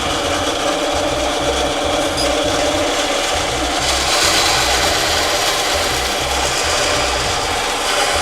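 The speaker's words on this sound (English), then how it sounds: "I used the handy dandy new bandsaw again and trim some of this off." A bandsaw trims a steel chef's knife blank, its motor a steady loud drone with rasping cutting noise throughout, swelling slightly midway.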